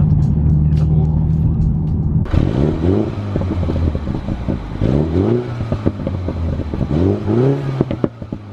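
A John Cooper Works Mini Countryman revs up from a steady idle into loud, close blips, each rev rising then dropping off into a crackling burst of exhaust pops and bangs, repeated several times.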